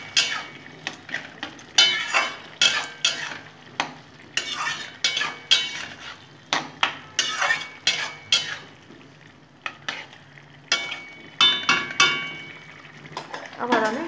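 A spoon stirs curry in a pot with cumin, coriander, ginger and green and ripe chilies, giving repeated scraping, clattering strokes in an irregular rhythm over a soft sizzle, close and fairly loud.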